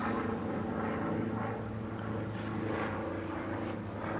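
Propeller aircraft passing overhead above a fishing bank, a steady broad engine drone that swells and fades slightly over a few seconds, moderately distant with no talk.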